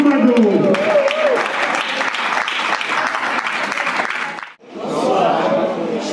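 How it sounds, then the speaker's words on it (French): Wedding guests applaud loudly and steadily as a speaker is welcomed, a dense crowd clapping that fades and dips near the end, then a voice begins speaking over the tail. "Sous vos applaudissements"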